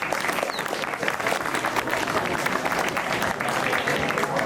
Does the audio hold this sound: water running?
no